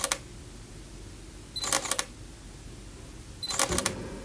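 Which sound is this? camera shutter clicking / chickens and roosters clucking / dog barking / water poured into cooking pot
camera shutter clicking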